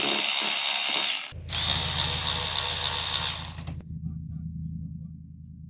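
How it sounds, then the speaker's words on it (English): Electric ratchet with an 8mm socket spinning off the intake hose clamps on a Nissan Versa 1.6L, heard as a loud, steady mechanical whir for about two and a half seconds, then a quieter lower hum trailing off. "go ahead and grab your electric ratchet and an 8mm and remove the two clamps holding on"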